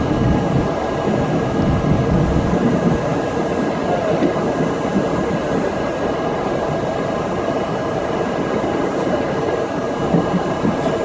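R62 subway car on the A line, a steady loud roar of wheels on track with continuous rattling and rumble throughout, no voices.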